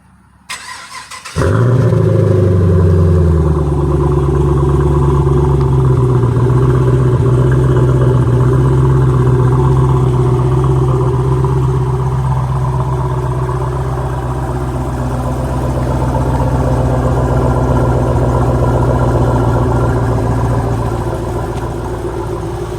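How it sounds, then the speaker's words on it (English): A 2015 Chevrolet Camaro SS V8 cranks and fires on a cold start with a sharp surge, then settles into a steady, loud, rumbling idle that holds near and constant to the end with slight swells. "It's a cold start, it's an SS, so let's go ahead and start it up."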